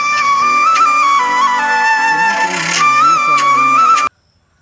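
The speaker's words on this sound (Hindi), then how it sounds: "तो चलिए इसमें हम कोई भी म्यूजिक चला के सुनते हैं कि इसकी बेस की क्वालिटी कैसी है" Music plays through a budget Bluetooth headset with the volume turned up to show off its bass, a steady tonal track with melody and low notes running for about four seconds before stopping abruptly.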